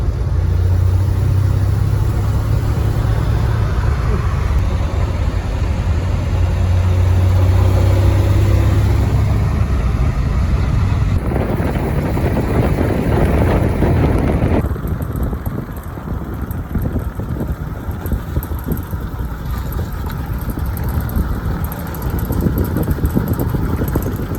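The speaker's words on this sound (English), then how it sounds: "Showing off the new engine." A freshly built flathead engine powers a rat rod on the road, its loud, steady mechanical drone running throughout with shifts in pitch and load as the car accelerates and changes gear, and no talking.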